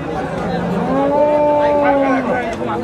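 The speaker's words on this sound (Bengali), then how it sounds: "এটা কি জাতের গরু?" A desi Sahiwal cow at a cattle market in Nilphamari lets out one long, loud, drawn-out moo close by, rising and then falling away over a steady market background.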